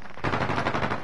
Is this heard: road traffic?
no